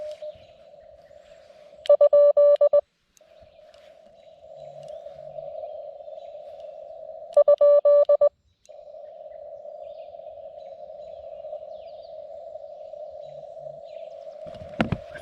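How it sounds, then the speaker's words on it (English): A mobile phone gives two bursts of rapid electronic beeping several seconds apart, cutting over a steady tone from a ham radio transceiver that runs through the whole stretch. "My phone's going ballistic."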